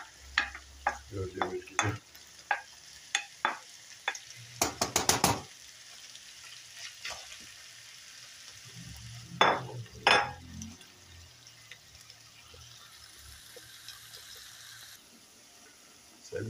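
Onions, peppers and garlic fry in a pan for ground-meat eggs, giving a soft steady sizzle under scattered stirring scrapes and clinks of a utensil, with a brief spoken phrase near the end.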